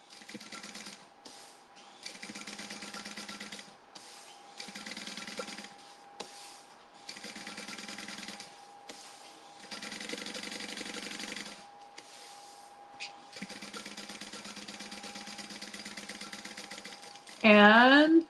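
A sewing machine top stitches a summer tote bag in repeated bursts of rapid mechanical whirring separated by short pauses, close and clear, with a brief higher squeaky rattle at the end.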